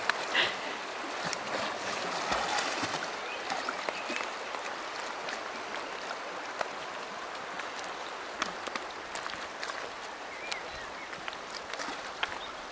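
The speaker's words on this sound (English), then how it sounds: "There's Jono swimming down the river." Gentle flowing river water in Provence as a person swims downstream, a soft continuous gurgle and lapping with scattered small splashes, fairly quiet throughout.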